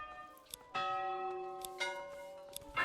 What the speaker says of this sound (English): Oh, change church bell sound.